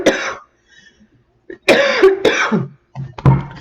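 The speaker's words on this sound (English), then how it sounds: "The vape keeps making me cough." Someone coughing repeatedly from a vape, a few harsh, throaty bursts close to the microphone separated by short pauses, with some throat clearing.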